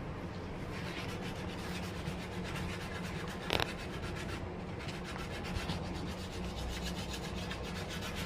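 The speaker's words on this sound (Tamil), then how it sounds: "உடஞ்சதெல்லாம் மக்கு வச்சாச்சு இப்போ பாலிஷ் போட்டு காமிக்கிறேன்." A wooden thavil drum shell, its cracks filled with putty, is polished by hand with a steady, continuous rubbing and one brief sharper scrape partway through, and no one speaks.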